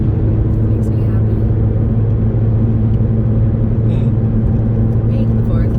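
Car driving uphill through forest on Mt. Rose Highway, a loud steady engine and road rumble from inside the cabin throughout, with no breaks or changes.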